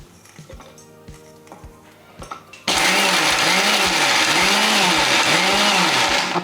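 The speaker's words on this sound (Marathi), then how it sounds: "एकसारखा मिक्सर नाही फिरवायचा फक्त चालू बंद करायचं" Soft background sounds give way to a loud mixer grinder coarsely grinding dry fruits, whirring in repeated short pulses, starting and stopping in a regular rhythm.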